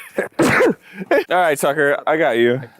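A single sharp sneeze near the mic during a casual gaming session, followed by someone speaking.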